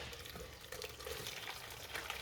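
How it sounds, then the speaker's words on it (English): Hibiscus and pineapple juice pours steadily through a sieve, a continuous close wash of liquid trickling and splashing that holds at an even level throughout. "Time for me to sieve and get those juices flowing"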